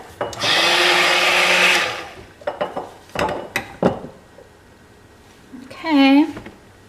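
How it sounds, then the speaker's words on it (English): A small kitchen blender runs loudly for about two seconds mixing cold process carrot juice soap batter, followed by clinks of utensils and containers, with a person talking afterward. "let me set this blender in here."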